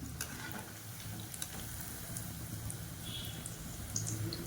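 Mutton kola balls deep-frying in hot oil give a steady, dense sizzle that runs the whole time, with small bubbling pops near at hand and no voices.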